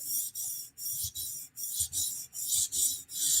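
A Chris Reeve Sebenza knife blade is drawn across a 400 grit stone on a TSProf sharpener in a steady series of close, rasping strokes, each separated by a short pause.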